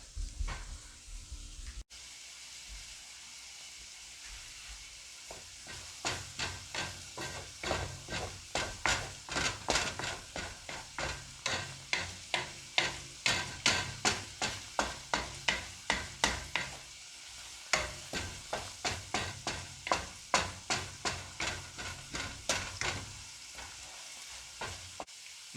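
Food for shrimp pad thai sizzles and hisses in a hot pan, with a steady run of rhythmic scraping as it is stirred. No one speaks.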